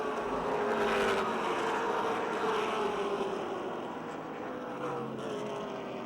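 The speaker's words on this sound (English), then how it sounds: "Wheel-to-wheel racing on the back straightaway." Stock cars roar past on a speedway oval, a dense, steady engine drone with a slight pitch sweep as the pack runs wheel to wheel, heard from a distance without speech.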